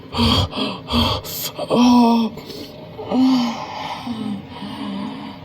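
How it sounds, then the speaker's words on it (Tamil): A person breathing hard and gasping after running laps, with a string of loud, close, voiced heaving breaths and groans coming in uneven bursts. "ஐயோ மூச்சு வாங்குது."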